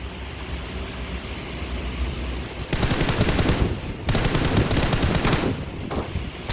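Video game gunfire crackles in two loud bursts of rapid automatic shots, with short pauses between them, set against a steady background hum; a lone shot follows near the end.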